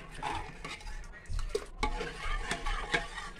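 A spoon scrapes and clinks around inside a pot of sambar, irregular stirring strokes, close and moderately quiet with faint kitchen background.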